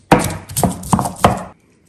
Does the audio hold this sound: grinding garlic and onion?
yes